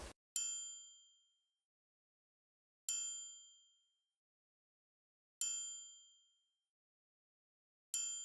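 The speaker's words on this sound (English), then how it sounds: "I then added a bell kind of percussion sound." A bright, high bell-like percussion hit in a beat sounds four times at an even, slow spacing, each ding clean and ringing briefly before fading into silence.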